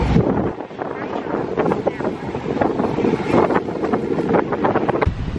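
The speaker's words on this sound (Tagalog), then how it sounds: "Pero sobrang lakas ng hangin." Strong wind in Rotterdam, Netherlands roars and buffets the microphone steadily throughout, with faint indistinct voices underneath.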